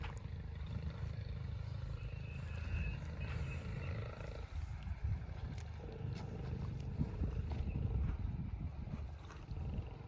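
A Bullet motorcycle-engine farm vehicle drones steadily throughout, a low rumbling chug continuing without a break for the whole stretch, working in a field.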